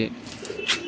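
A brief, close pigeon coo, a short low throaty note with a sharper chirp-like burst near the end.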